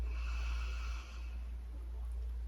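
A deep inhale during a chair yoga breathing exercise, a soft airy breath drawn in over about a second, faint against a low steady hum.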